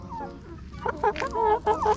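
Guinea fowl and chickens call on a small farm, a close chorus of repeated harsh squawks and clucks in quick uneven bursts over a busy background.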